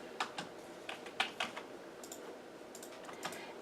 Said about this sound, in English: You can type the equation directly here like I did